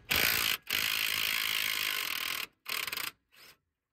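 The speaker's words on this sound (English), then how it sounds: "I was able to undo the nut with the impact gun itself" An impact gun loosens a nut on the steering linkage of a BMW 530d GT, rattling loudly in close bursts, first a short burst, then a long one, then two brief ones.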